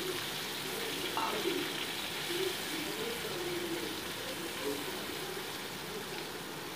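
Chapila fish fry in hot oil with a continuous soft crackling sizzle, steady and fairly quiet throughout.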